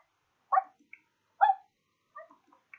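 A dog in The Sims 4 Cats and Dogs gives a few short, faint whimpering barks and yips, spaced apart against silence.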